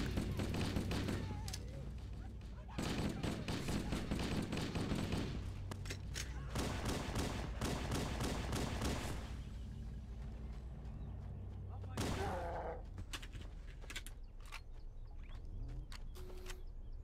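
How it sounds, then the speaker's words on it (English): Gunfire from crewmen shooting pistols in the Halo CE campaign, with dense bursts of rapid shots layered over game music and a busy battle soundscape, loud and continuous with brief lulls. "So the crewmen should be firing their weapons aggressively too."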